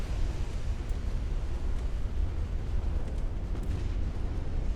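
A warship's gun magazine blows up in the naval battle game Ultimate Admiral Dreadnoughts, heard as a deep, sustained rumbling roar with low crackling bursts that fill the whole moment.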